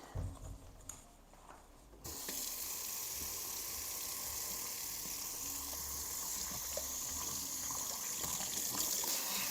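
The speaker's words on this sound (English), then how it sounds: "let me wash my hands as well" Hands washed under running tap water in a kitchen, a steady, bright rush of water that starts abruptly after a couple of seconds of quiet room noise and continues evenly to the end.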